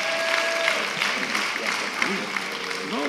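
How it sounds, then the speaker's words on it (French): An audience at a church ceremony claps steadily in a sustained round of applause, with voices calling out and cheering underneath. "Est-ce qu'on peut acclamer le Seigneur?"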